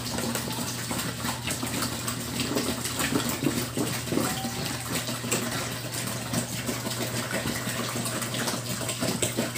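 Water gushes steadily into a container while measuring out 14 liters for homemade dishwashing liquid, a continuous close pouring rush with no talk.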